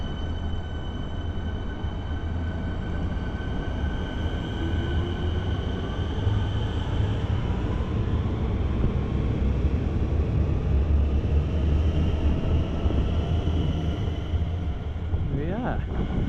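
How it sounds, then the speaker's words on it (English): A Melbourne suburban train bound for Flinders Street rumbles at Chelsea station platform 1, a steady loud low roar of wheels and motors that holds throughout, with faint tonal whines above and voices talking underneath. "this train is going to Flinders Street"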